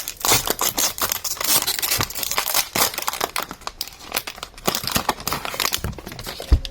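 A Pokémon card booster pack wrapper is torn open and crinkled, producing loud, close, continuous foil crackling and rustling with sharp tearing bursts throughout.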